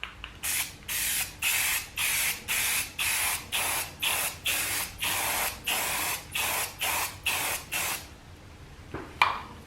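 Spray paint goes on in about fifteen regular short bursts, each a loud hiss with a brief gap between, coating a test panel in a workshop. A couple of faint knocks follow the last burst.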